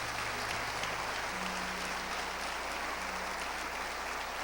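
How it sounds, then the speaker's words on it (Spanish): A church congregation applauds during a sermon, a faint, even patter of clapping heard from a distance over a low room hum. "Denle un aplauso al Espíritu Santo"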